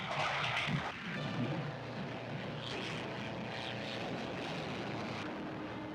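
Engine roar of WWII fighter planes taking off from an improvised metal runway, a loud continuous drone that swells briefly at the start, then holds steady.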